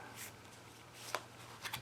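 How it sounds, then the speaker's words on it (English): A tarot card deck being shuffled by hand, soft riffling bursts with a few quick flutters and snaps, quiet and close, with no talking. "let's do our maiden shuffle"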